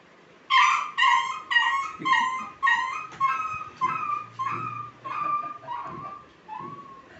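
A voice imitates a whimpering dog with about ten high, whining cries in a steady rhythm, each falling in pitch and gradually fading.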